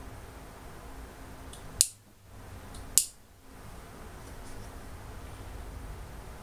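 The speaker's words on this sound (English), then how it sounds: "use my hole punch" A leather hole punch bites through rawhide dog-bone material twice, each time a sharp, close snap with a short crunch, in an otherwise quiet room.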